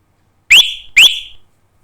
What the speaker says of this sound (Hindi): ये सीटी वगैरह है।